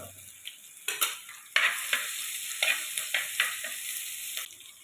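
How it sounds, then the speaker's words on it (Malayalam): Crushed ginger and garlic hit hot coconut oil for a sardine curry. After a brief quiet start comes a bright, close sizzle with repeated scraping stirs in quick rhythm. "നമ്മൾ വെളിച്ചെണ്ണ ചൂടായിട്ടുണ്ട് നമുക്ക് ഇഞ്ചി വെളുത്തുള്ളി ഇട്ട് കൊടുക്കാം ചതച്ചത് ഒന്ന് മൂപ്പിച്ചെടുക്കുക"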